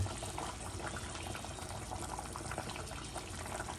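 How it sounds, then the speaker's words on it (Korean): Seaweed soup (miyeokguk) boiling in a pot, prepared for a new mother in a home kitchen, a steady bubbling and hiss of liquid that runs continuously and evenly throughout. "미역국을 끓이고 있습니다"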